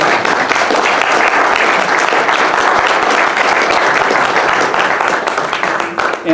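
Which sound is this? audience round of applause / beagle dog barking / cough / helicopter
audience round of applause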